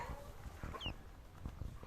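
A domestic chick of a native village hen, raised at home, gives one or two faint, brief high chirps over a low background rumble, with no voices.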